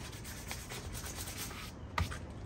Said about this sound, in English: I've got these patched pretty good, so I'm just going to sand them down a little more.